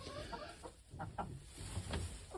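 Chickens clucking softly at close range inside a coop in below-zero winter weather, a few short broken calls scattered over a steady background hum.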